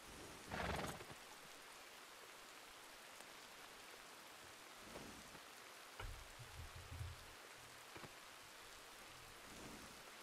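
Rain falls steadily in the Red Dead Redemption II game world as a faint, even hiss, with brief louder bursts and soft low rumbles of thunder.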